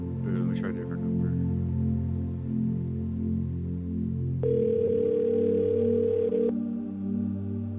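A telephone dial tone sounds steadily while another number is being called, a sustained hum that holds alone for several seconds, joined partway through by a brief higher beep-like tone.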